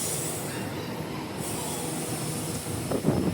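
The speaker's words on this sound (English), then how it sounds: "This is the second last C-series we're gonna see departing Ellenbrook" C-series electric passenger train pulling out of Ellenbrook station, a loud steady rolling rumble with squealing wheels and a rising hiss near the end, heard close by with no talk.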